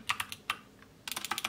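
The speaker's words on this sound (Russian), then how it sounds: "Клик мягкий и приятный для слуха." A keyboard with Kailh Box White clicky switches is typed on, giving a few separate crisp clicks and then a quick run of close, bright keystrokes.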